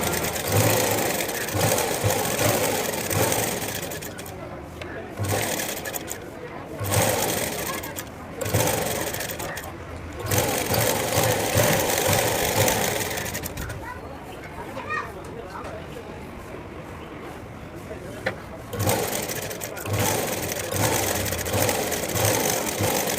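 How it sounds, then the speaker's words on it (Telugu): A sewing machine stitches a plain blouse with markings turned inward, running in a steady buzzing drone with brief pauses between seams while someone talks over it. "మార్కింగ్స్ అనేవి లోపలికి వెళ్ళేలా కుడుతున్నాను."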